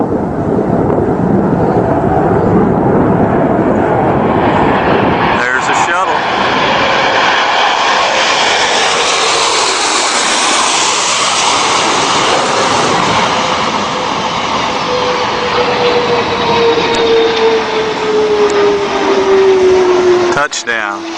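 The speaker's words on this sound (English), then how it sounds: "Take a look and take a listen to those jet engines." Jet engines roar steadily and loudly as a space shuttle comes in to land, with a broad, continuous engine noise filling the whole stretch and a slowly falling whine near the end.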